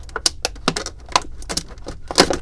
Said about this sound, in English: I'm just cutting this open with scissors